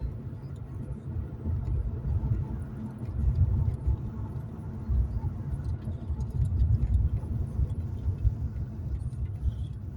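A Jaguar XK8 being driven slowly and tucked away to park, heard as a low steady engine rumble and road noise from inside or near the car, with no speech.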